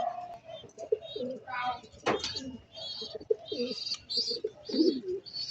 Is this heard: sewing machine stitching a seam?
no